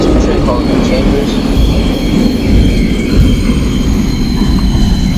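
A subway train runs in the OpenBVE train simulator game on a run to Chambers Street, a loud continuous low rumble of wheels on rails with faint squeals above it.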